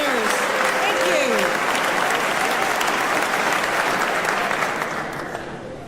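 Lawmakers and guests at the Massachusetts State of the Commonwealth address applaud and cheer loudly, a dense roar of clapping and voices that starts strong and gradually fades toward the close.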